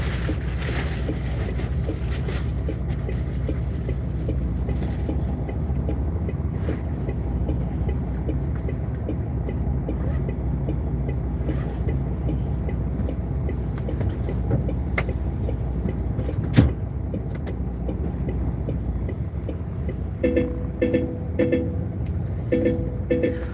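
MAN lorry engine running while driving on British roads, a steady low rumble heard from inside the cab throughout, with occasional knocks and rattles and a few clicks near the end.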